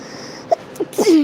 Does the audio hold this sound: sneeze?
yes